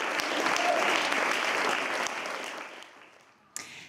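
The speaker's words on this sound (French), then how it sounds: "la pièce finit tragiquement et sous un tonnerre d'applaudissements." A theatre audience applauding at the end of a play, dense sustained clapping from a large crowd that gradually fades, ending in a brief sharp knock.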